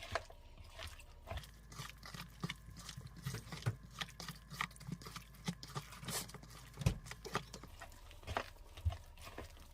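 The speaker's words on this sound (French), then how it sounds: "On mélange les œufs avec la viande hachée." Bare hands knead eggs into minced meat for Sicilian-style meatballs, giving close, soft wet squelches and pats that repeat steadily throughout with no talking.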